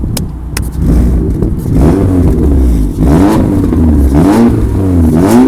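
VW Golf 4 with a stainless steel exhaust system revving loudly and close by, the engine note rising and falling through several blips with a metallic rasp at the rear.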